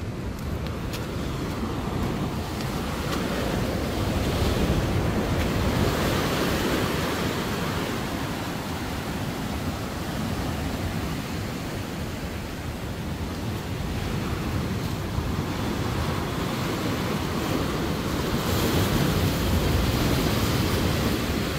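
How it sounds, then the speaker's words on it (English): Ocean waves surge against the rocks beside a pier on the KZN South Coast at Margate, making a steady, loud broadband roar of surf with wind mixed in, constant for about twenty seconds and with no talking. "When it's a big wave, it flows onto, it hits those rocks and jumps onto the pier."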